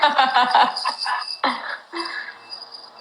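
A cricket chirp sound effect plays as a burst of rapid, high, pulsing chirps, loud at first and then thinning into sparser trills over about three seconds, with no voices.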